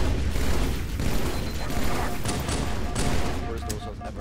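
Gunfire in Halo 2 on the legendary campaign, a dense, continuous volley of shots over rumbling game ambience, loud and close, with scattered sharper bursts near the end.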